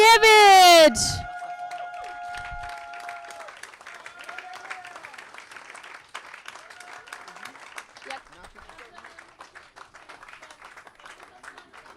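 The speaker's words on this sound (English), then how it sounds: "please clap your hands, make a noise for Vasily Matsokiewicz" Crowd applauding a rider at the European Cableski Championships: steady scattered clapping from a spectator crowd outdoors, following a brief loud announcer voice, gradually thinning.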